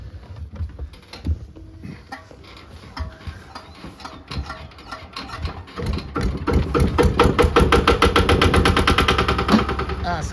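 Yamaha walking tractor, a two-wheel farm tractor of the type locally called Tobata, with a single-cylinder engine chugging in fast, even pulses. It grows louder and closer over the second half, with people talking over it early on.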